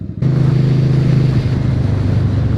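Cars and an SUV driving past on a road, heard close as a loud, steady engine and tyre rumble with wind buffeting throughout, no talking.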